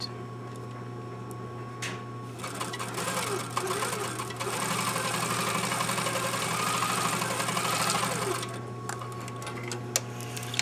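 Sewing machine stitching a curved costume hem, a dense mechanical whir that starts after a couple of seconds, runs steadily for about six seconds, then stops, close and loud over a constant low hum.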